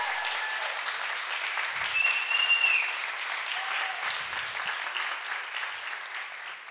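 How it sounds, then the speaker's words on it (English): An audience in a room claps steadily for a community leader at an event, a dense, even wash of applause sustained throughout with a brief whistle or cheer near the middle. "I think a round of applause for Wendy and her leadership"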